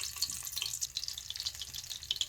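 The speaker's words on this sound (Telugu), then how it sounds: "ఆయిల్ హీట్ ఎక్కినాక ఇదిగో నాలుగు వెల్లిపాయలు వేస్తాను" Garlic cloves frying in hot oil in a pan, a steady soft sizzle and crackle running throughout without talk.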